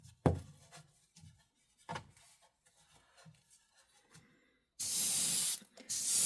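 Paint sprayed onto a model in light coats: two steady hissing bursts from a spray can, close and loud, after a stretch of faint handling taps and rustles.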